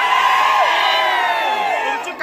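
A crowd celebrating an election victory, loud sustained cheering and whooping voices close by, with rising and falling shouts blending together.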